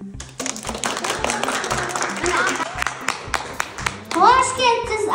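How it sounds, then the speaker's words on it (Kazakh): A group of children claps hands in a distinct rhythmic series of sharp claps at a school alphabet-book farewell event. Children's voices chatter and sing over and after the clapping. "Шапалақ ұрамыз."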